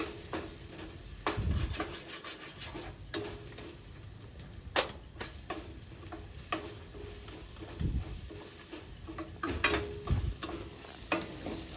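Fresh-pounded ginger garlic paste frying in oil, a soft steady sizzle punctuated by repeated irregular clicks and scrapes of a spoon stirring against the pan, no talking.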